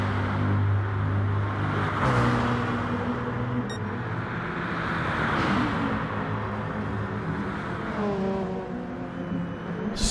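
Race cars in a sim racing game roar along a straight, a McLaren P1 leading with another car chasing its slipstream; steady loud engine drone with rising revs and gear changes, no talk.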